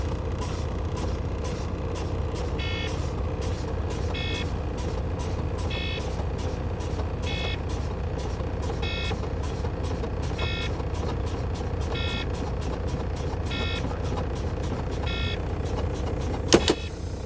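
A truck's air brake system is fanned down, with short hissing air releases recurring at a steady rhythm over a constant idling engine drone, capped by a sharp pop near the end as the trailer air supply valve closes.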